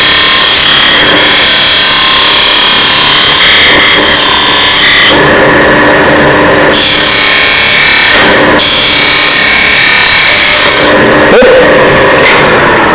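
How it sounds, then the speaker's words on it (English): Continuous, loud scraping and rubbing of a spindle gouge cutting wood turning on a lathe, with a steady motor hum and occasional shifts in tone as the tool moves along the workpiece. "Taking a spindle gouge,"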